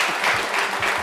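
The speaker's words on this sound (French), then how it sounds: "Est-ce qu'on peut applaudir nos invités, s'il vous plaît?" A studio audience at a TV show applauds the guests with a short burst of dense, steady clapping from the crowd, with no talk over it.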